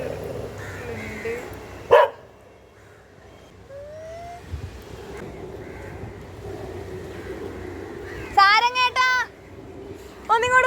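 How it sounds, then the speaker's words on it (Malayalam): Street dogs barking outdoors, with a sharp bark early on and a short burst of several barks near the end over quiet street ambience and brief faint voices. "ഇവിടുത്തെ പേടിയെന്ന് വെച്ച് കഴിഞ്ഞാൽ ഇത് ഇഷ്ടംപോലെ പട്ടികൾ ഉണ്ട്."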